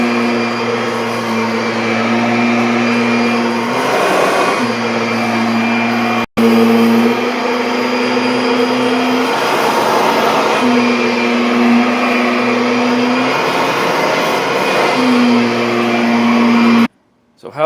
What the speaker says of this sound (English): I'll vacuum around you.